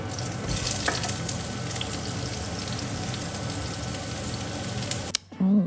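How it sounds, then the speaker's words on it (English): Pork and beef with red and green onion stir-frying in a pan, sizzling loudly and steadily for several seconds before cutting off abruptly, with a brief voice at the end. "Oh, listen to that good sizzling. I love a good sizzling sound."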